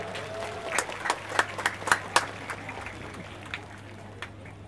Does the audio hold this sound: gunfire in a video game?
no